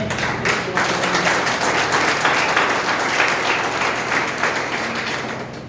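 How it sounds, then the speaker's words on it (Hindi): Loud, steady applause from an audience in a hall, a dense continuous patter of many hands with no speech over it. "साथियों एक बार इन लोगों के लिए जोरदार ताली हो जाए"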